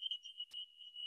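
A fire alarm going off in a home, a steady high-pitched electronic tone held continuously and faint, with a brief broadband click partway through.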